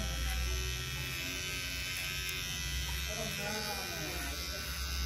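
Electric hair clipper buzzing steadily and close up while cutting a medium fade, blending the line along the side of the head, with a constant motor hum throughout.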